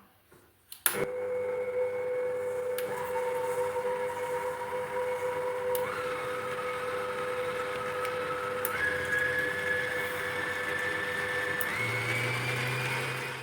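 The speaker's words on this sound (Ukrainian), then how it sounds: "Все, взбиваю до пишності." An electric mixer whips eggs with sugar and vanilla sugar in a bowl. After a click it starts up, then hums steadily, its motor pitch stepping up a few times as the speed is raised. The whine stays close and continuous, and no one speaks.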